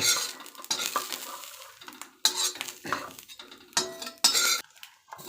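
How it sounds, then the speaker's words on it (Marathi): Roasted grated coconut is scraped out of a pan onto a plate with a spoon, making several bursts of metallic scraping and clinking with short quiet gaps, close by and with no speech. "आता मी प्लेटमध्ये काढून घेते"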